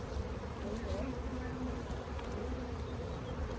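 Steady, dense buzzing of many bees in an opened hive being split and inspected, close and continuous, with faint voices in the background.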